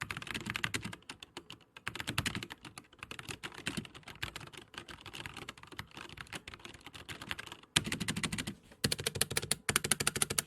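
Rapid clacking from a mechanical computer keyboard with linear switches, in steady bursts of keystrokes broken by short pauses, close and fairly crisp with no talking.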